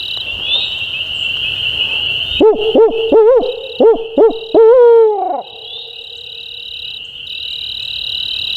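Against a backdrop of chirping insects in Kentucky, a turkey hunter imitates an owl with a series of about six rhythmic, rising and falling hoots, loud and close.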